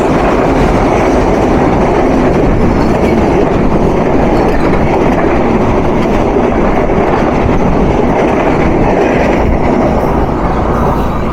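The Nilsagar intercity express speeds past close by, hauled by EMD locomotive 6639 with PT Inka coaches. A loud, continuous roar of wheels and coaches runs with no break from start to finish.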